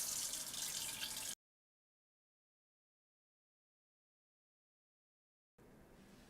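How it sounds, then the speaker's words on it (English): Cold tap water runs over potato wedges in a sink, a short close steady stream that cuts off into silence, then resumes faintly. "Go ahead and rinse them with a little bit of cold water as well."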